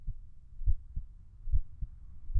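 A pendant's heartbeat effect thumps low and steady in paired beats, lub-dub, about four times in quick succession, deep and muffled with nothing else around it.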